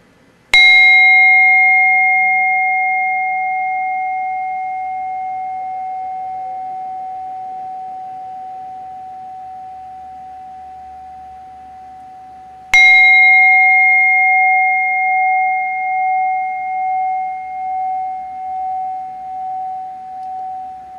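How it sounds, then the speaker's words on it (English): An old Japanese Buddhist altar rin bell is struck twice, about twelve seconds apart. Each strike gives a bright, pure ringing tone that sustains and fades slowly, and the second ring wavers audibly as it decays, with no talking. "As you can hear, the bell has a beautiful resonance."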